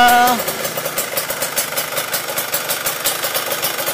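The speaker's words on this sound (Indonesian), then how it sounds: "suara mesinnya" A 1996 Yamaha RX King motorcycle engine runs close by at a steady, rattly, rhythmic idle, its quick pulsing beat continuing throughout.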